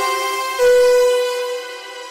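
A sustained synthesized tone run through an Ableton audio effect rack, rich buzzy harmonics holding steady, with a low rumble and a bright tonal layer added in the middle before easing back.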